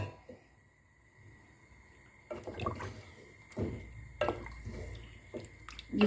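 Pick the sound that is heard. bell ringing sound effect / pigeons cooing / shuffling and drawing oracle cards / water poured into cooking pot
water poured into cooking pot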